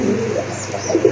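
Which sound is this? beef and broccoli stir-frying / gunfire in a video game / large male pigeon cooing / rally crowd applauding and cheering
large male pigeon cooing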